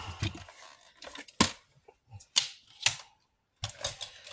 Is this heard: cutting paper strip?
yes